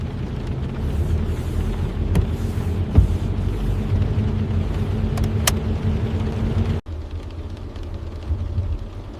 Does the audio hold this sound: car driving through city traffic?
yes